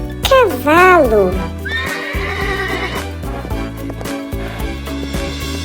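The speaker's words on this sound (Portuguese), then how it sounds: "Cavalo." A horse neighs loudly at the start, a rising and falling whinny, then a steady musical bed continues underneath for the rest of the clip.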